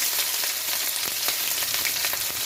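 One large, finely chopped onion hits hot oil with mustard seeds and cumin, a loud, steady sizzle with small crackles and stirring clatter close by, no one talking.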